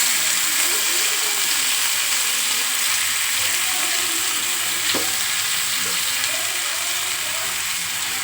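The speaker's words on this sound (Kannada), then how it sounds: "2 ಸೈಡ್ಸು ಚೆನ್ನಾಗಿ ಫ್ರೈ ಮಾಡ್ಕೋಬೇಕಾಗುತ್ತೆ" Fish frying on a flat tawa in oil, a loud, dense, steady sizzle close up for several seconds, with one brief scrape of a spatula midway and no voices.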